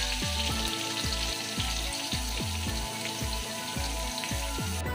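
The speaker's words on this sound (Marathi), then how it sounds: "कांदा आपल्याला छान असं परतून घ्यायचा आहे तेलामध्ये" Chopped onion sizzles and crackles steadily in hot oil in a kadhai for a Marathi potato curry, a dense close frying hiss with a repeating low thumping underneath.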